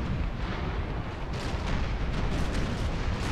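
An explosion in the Imperial Splendour strategy game: a dense, rumbling roar that stays sustained and loud throughout, with extra crackling bursts in the second half.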